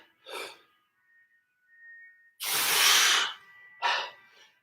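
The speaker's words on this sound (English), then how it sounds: "Notice how I'm breathing out as I come up." Heavy, forceful exhalations during a kettlebell workout, several loud hissing breaths out with quieter inhales between, close to the ear and with no talk.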